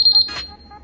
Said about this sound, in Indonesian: Alarm pun akan berbunyi.